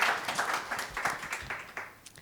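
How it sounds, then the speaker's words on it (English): A brief round of audience applause at an art fair talk, moderate, steady, dense clapping from a seated crowd, fading slightly toward the end. "a quick round of applause"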